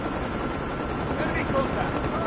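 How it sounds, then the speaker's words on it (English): Stealth chopper helicopter in the Call of Duty Mobile multiplayer game, a steady rotor drone running loud and continuous throughout, with in-game voice callouts over it. "Stealth chopper inbound."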